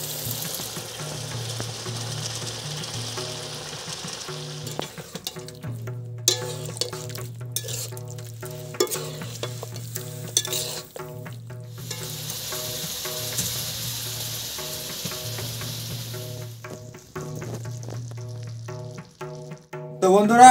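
Chicken curry meat frying in a pan with garam masala gives off a continuous close sizzle, broken by scraping and stirring, with bursts of louder crackling and a low tonal hum running underneath.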